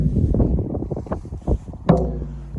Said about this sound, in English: Excuse the noise, because of course the wind is beautiful.